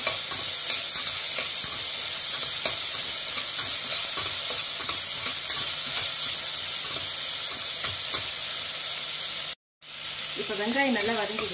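Onions sizzle steadily in a hot pan with occasional stirring scrapes, a constant close frying hiss that briefly cuts out near the end.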